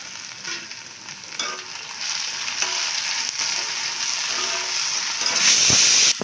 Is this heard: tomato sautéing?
yes